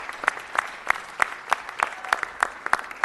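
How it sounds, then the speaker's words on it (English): Sparse, scattered hand claps from a modest audience at a city council meeting, coming in rhythmic bursts that stay fairly faint against a quiet hall. "my old friend Eric Taylor, give him a round of applause."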